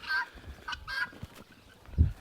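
Guard birds on a poultry farm near the Lagodekhi reserve give three or four loud, close honking calls in quick succession, with brief pauses between them.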